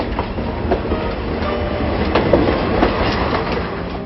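A train runs along the rails near Kanchanaburi, Thailand, with a loud, steady rolling rumble and faint rhythmic clicks from the wheels, heard close and with no voices.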